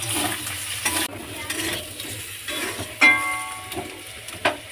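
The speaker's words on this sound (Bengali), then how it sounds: "এবার আমি নাড়তে থাকি" Fish curry of tilapia with elephant foot yam being stirred in a pan, a steady sizzle with scraping spatula strokes and a few sharper knocks against the pan, close and moderately loud with no talking.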